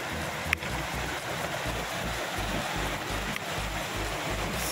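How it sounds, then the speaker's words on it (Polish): A mountain stream in the Tatras, near Sucha Woda Gąsienicowa, flows with a steady broadband rush of water, moderately loud and constant, with a couple of faint clicks and no voices. "Mamy potok."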